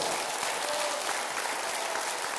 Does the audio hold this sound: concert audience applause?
yes